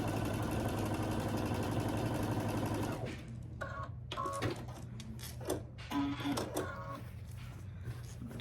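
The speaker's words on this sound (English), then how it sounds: "I'm going to stitch them on at a 1/4 inch down each side so that sashing is already on this center block." A domestic sewing machine runs a quarter-inch seam joining sashing strips to a signature quilt block, giving about three seconds of fast, steady, whirring stitching. It then stops, leaving quieter handling clicks and fabric rustle.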